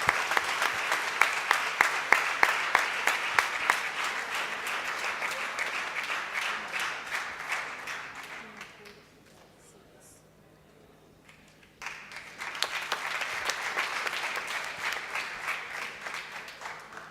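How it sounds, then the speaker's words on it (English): An audience at a valedictory function for a law school moot court event bursts into loud, sustained applause with dense clapping, fades to near quiet midway, then erupts again just as strongly. "A louder applause"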